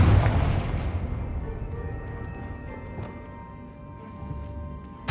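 A Confringo blasting spell exploding in Hogwarts Legacy, a loud booming burst at the start that rolls off into a long, fading rumble with scattered crackles.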